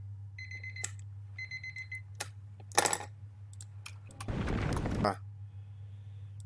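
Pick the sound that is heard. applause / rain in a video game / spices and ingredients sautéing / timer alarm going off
timer alarm going off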